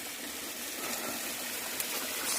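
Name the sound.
small waterfall flowing on a mountain trail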